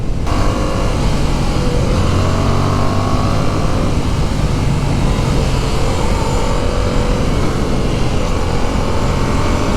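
Yamaha MT-07 motorcycle, a 2019 model, accelerating on a test ride: a loud, steady engine roar with rising tones and heavy wind rush, continuous and close throughout.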